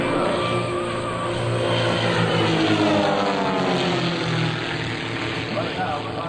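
Propeller aerobatic planes fly the roller coaster maneuver at an air show at NAS/JRB Willow Grove, giving a loud, sustained engine drone whose pitch slowly shifts as they pass. A voice can be heard underneath.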